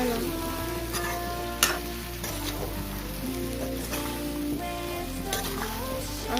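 Olive pickle being stirred with spices and salt, giving a wet sizzling crackle with repeated scraping strokes and a few sharper clinks against the pan, under a low steady hum.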